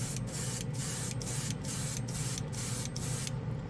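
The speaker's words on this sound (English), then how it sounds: "we're going to go ahead and dry it off again with just some air" Compressed air from an airbrush blowing steadily to dry fresh paint on a plastic model, a continuous close hiss with regular short pulses, no talking.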